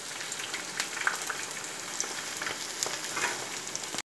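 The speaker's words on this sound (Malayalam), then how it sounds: "എണ്ണ തിളച്ചിട്ടുണ്ട്. അപ്പോൾ നമുക്ക് ചിക്കൻ പീസ് ഇതിലേക്ക് ഇട്ട് കൊടുക്കാം." Chicken pieces frying in a pan of hot oil give a steady crackling sizzle with scattered sharp pops throughout, moderately close, with no talking.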